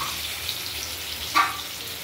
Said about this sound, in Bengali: এবার আমরা ভরে ভরে এগুলো কড়াইতে তেলে আমরা ভেজে নেব